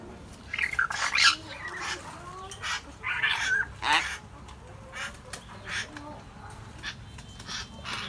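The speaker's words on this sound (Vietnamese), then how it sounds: "chú chim đây thì đang nói" Hill myna chatter and squawks, loud and close, in bursts of harsh calls and talking-like sounds across the whole stretch, with no other voices.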